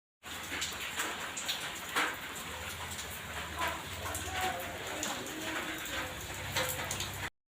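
A steady hiss of rain falls continuously, with scattered drops tapping on surfaces and no voices.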